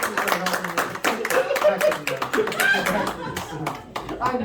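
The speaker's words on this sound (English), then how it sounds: "A round of applause." A theater audience at a fringe festival magic show gives a round of applause, dense close clapping mixed with chuckles and scattered voices, the claps rising and falling in irregular waves.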